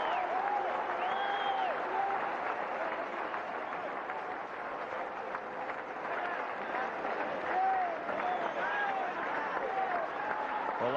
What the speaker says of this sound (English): Standing ovation from the crowd, from the Australian fielders, and most importantly from their colleagues.